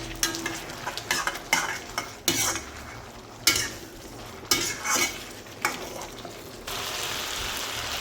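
Manchurian balls fry with sauce in a pan, a soft sizzle running beneath clattering strokes of a metal spoon against the pan, irregular scrapes and knocks repeating at close range before the frying hiss carries on alone.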